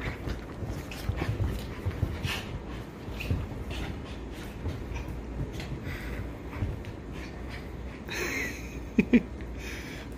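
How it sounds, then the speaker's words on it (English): A Chihuahua and another dog play-fight, with scuffling, panting and small whimpers and yips in a steady jumble and a couple of sharp bursts near the end. "This is the only other dog that Jaw fights like this with"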